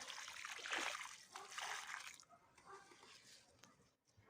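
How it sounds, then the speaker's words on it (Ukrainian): Water poured from a container onto damp soil over a layered grapevine shoot, two splashing gushes followed by softer trickling as the flow eases. "Отак я полив."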